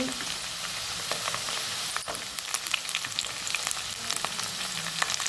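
Green peas hit a hot pan for upma and fry with a steady, close sizzle and crackle, with faint stirring scrapes breaking through the continuous hiss.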